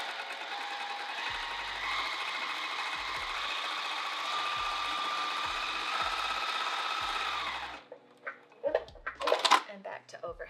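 A home sewing machine stitches a straight line to reseal a cover edge, running steadily and fairly close for about seven seconds with a faint rhythmic clicking, then stopping, followed by a few brief handling clatters.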